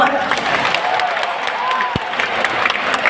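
An audience claps at a religious talk in NTT, Indonesia, a broad continuous patter of hands with some crowd murmur and a brief low thump near the middle.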